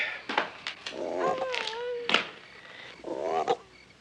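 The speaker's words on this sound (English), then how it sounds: "if you don't cut out that croaking" Several croaky, warbling calls in short bursts, close and fairly loud, with brief pauses between them.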